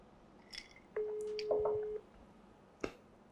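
Unanswered phone call ringing out, a single long steady ring tone in the middle with a few small clicks and taps before and after, faint and indoors.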